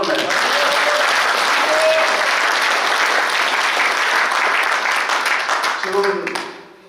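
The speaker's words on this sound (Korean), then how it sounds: "여러분 그렇게 생각하시면 큰 박수 한번 주세요" A large crowd at a veterans' association leadership ceremony bursts into loud, dense applause that holds steady for several seconds before tapering off, with a few voices mixed into the clapping.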